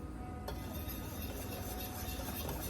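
Steady scraping and stirring of a boiling sugar mixture in a pot for no-bake cookies, a continuous close, busy bubbling-and-scrape texture with a brief clink near the start and no talk.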